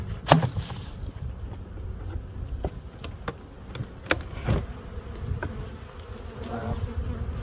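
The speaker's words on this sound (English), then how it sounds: "Wow, lots of bees. That's what's going on down there. Look at all them bees." Many bees swarm inside an opened beehive in spring, a dense, close, continuous buzzing broken by occasional sharp knocks from handling the hive frames.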